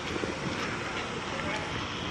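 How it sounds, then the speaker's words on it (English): Wind buffets a microphone outdoors in a parking lot in Biloxi, making a dense, loud, continuous rumbling roar, with fingers held over the mic. "It's really windy."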